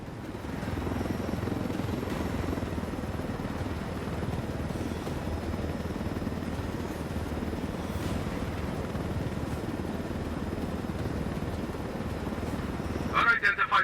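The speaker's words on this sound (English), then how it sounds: "I told Griffin I could figure out how to fly this thing. Qualify for planes. But not choppers" A helicopter in the video game Ghost Recon Wildlands flies with a loud, steady rotor and engine roar that holds throughout, with louder bursts right at the end.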